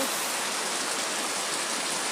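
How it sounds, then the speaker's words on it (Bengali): Heavy rain pours down in the hills of Kerala, a dense, steady, loud hiss with no pauses and no voices. "পাহাড় দেখা যাচ্ছে না, চরম বৃষ্টি হচ্ছে।"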